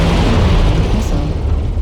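A missile blast in MechWarrior Online, a loud, sustained rumbling explosion with a heavy low-end roar that fills the whole moment without any voices.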